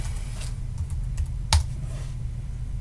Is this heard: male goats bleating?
no